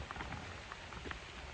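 Rain falls on a backyard garden as a soft, steady wash of hiss with scattered patters of drops, faint and even throughout.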